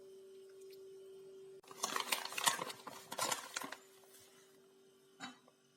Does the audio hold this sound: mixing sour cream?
yes